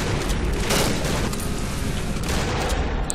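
Rapid, loud shotgun and weapon fire in the co-op horror game Cry of Fear, dense blasts filling the whole moment with no talk over it.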